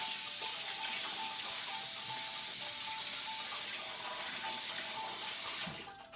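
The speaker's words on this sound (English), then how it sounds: "we're going to scrub this crab." Steady running tap water splashing in a sink while a crab is scrubbed with a brush for curry crab, a constant close wash of water that cuts off near the end.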